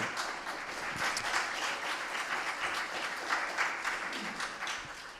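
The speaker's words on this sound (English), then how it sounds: "Okay, you've clapped enough, haven't you?" Church congregation at Pendle Community Church applauding during a live-streamed service, a dense sustained wash of many hands clapping together, fairly distant and even throughout.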